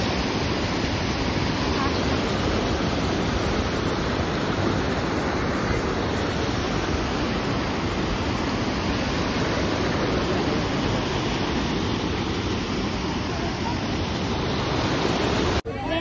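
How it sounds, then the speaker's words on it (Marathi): Fast-flowing river water at Panchavati in Nashik, heard as a loud, steady, unbroken roar of rushing water that fills the whole stretch and cuts off abruptly at the end. "आणि कधी कधी पाणी इतकं वर येतं मारुती सुद्धा म्हणजे मारुतीच्या डोक्यापर्यंत येतं पाणी।"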